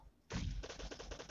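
Gunfire in a video game bursts in loudly after a brief quiet start, a heavy blast followed by a rapid stuttering string of shots that fills the rest of the moment.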